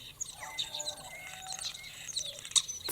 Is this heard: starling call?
yes